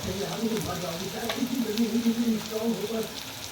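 Onion frying in a pan at home, a soft steady sizzle with faint crackles, heard alongside low murmuring tones.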